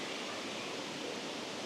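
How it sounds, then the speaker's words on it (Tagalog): A natural stream flowing on a day tour near Dumaguete, heard as a steady, even hiss of running water at moderate level, continuous and without voices. "Eto na yung batis."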